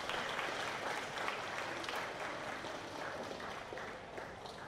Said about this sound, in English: Please, another round of applause for Ida.